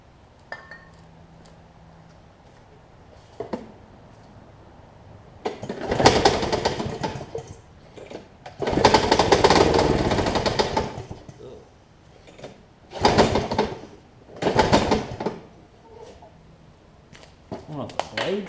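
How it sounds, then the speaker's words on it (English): Yard Man OHV big-wheel push lawn mower engine being pulled and started with starting fluid, brief cranking bursts then several loud sputtering runs that die out between quieter pauses, close up. "so we'll see if we can get it started and running"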